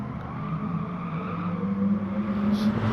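Race cars braking hard and understeering in a racing game, with tyre squeal and skidding over a steady engine roar.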